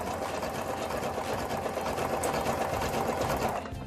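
A sewing machine runs steadily, stitching a blanket stitch along the edge of a towel appliqué, with a fast, even mechanical whir close by and no talk.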